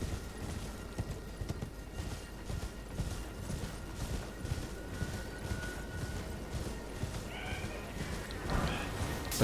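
Rhythmic hoofbeats of a horse galloping at a steady pace in the video game Elden Ring, a fairly faint, even patter that continues throughout.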